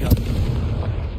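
Confringo spell blast in a Hogwarts video game, a single heavy booming burst at the start with a low rumbling tail that decays over about a second.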